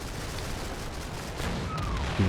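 Scattered gunfire from troops in the WWII strategy game Combat Mission: Battle for Normandy, a dense continuous crackle of distant shots under a broad noisy wash, with a few heavier bursts toward the end.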